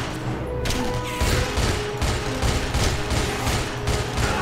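Sustained gunfire in the World War II shooter game Enemy Front, loud overlapping rifle and machine-gun bursts with booming impacts, a dense continuous barrage with no voices.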